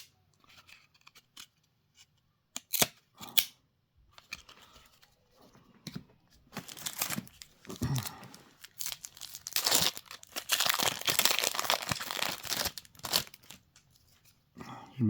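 Stuck-together 1994 Score baseball cards being peeled apart by hand, close crinkling and tearing sounds in irregular bursts that thicken into dense, continuous peeling near the end.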